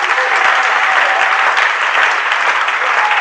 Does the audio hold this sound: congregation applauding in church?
yes